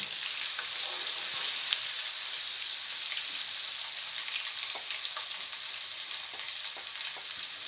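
Moong dal and spices frying in a pan give a steady, close, crackling sizzle that stays even throughout, with faint scattered pops and no voices.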